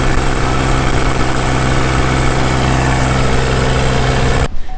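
A farm tractor's engine runs steadily at a loud, constant idle with a deep, even drone and vibration, close by and unbroken, until it cuts off abruptly near the end.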